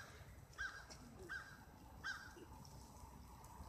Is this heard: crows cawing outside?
yes